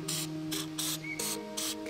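Short hissing bursts of Fluid Film aerosol sprayed onto new battery terminals in a 2001 Ford F-series Powerstroke, with four or five quick pulses, close and fairly quiet over a steady background hum.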